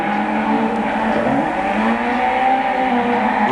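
Renault Clio Cup race cars from Gran Turismo 6 drone steadily at high revs along a Côte d'Azur street circuit, the engine tone loud and continuous with slight pitch shifts.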